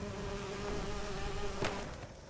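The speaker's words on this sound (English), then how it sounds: "Oh, it sounds like it's bees." Bees buzzing in the treetops in the video game Fallout 76, a continuous close droning hum that holds steady with a brief swell near the end.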